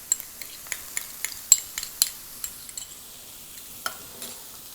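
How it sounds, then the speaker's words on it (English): Onions, garlic, green chili and ginger sautéing in a pan while rajma masala is being made: a faint sizzle with repeated light scrapes and taps of a spoon stirring, no voices. "And I'm going to saute it again for a minute or so."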